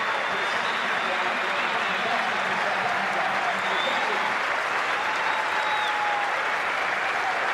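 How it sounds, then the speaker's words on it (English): A Sydney cricket crowd applauds a batsman walking out, sustained dense clapping from a large stadium audience with a commentator's voice over it. "the Sydney crowd really appreciating Graham Smith's courage to come out and bat for his country"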